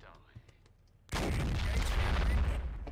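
Heavy gunfire in the Modern Warfare video game, a loud sustained burst of shots and rumbling booms that erupts abruptly after a quiet lead-in and continues without pause to the end.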